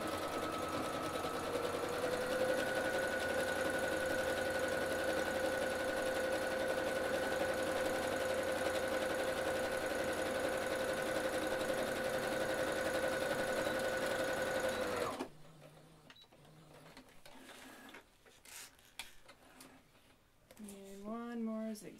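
A sewing machine runs steadily, stitching a zigzag seam along a fabric shoe bag for about fifteen seconds, then stops, followed by quieter handling sounds and brief speech.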